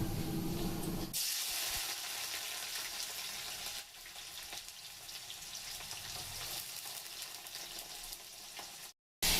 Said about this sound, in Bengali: পেঁয়াজগুলোকে ভেজে বেরেস্তা করে নেব।